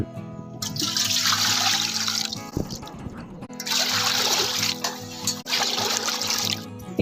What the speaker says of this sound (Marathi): तीन डबे पाणी टाकायचं